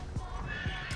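A short horse whinny from World of Warcraft with a few quick hoof clops underneath, brief and fairly close.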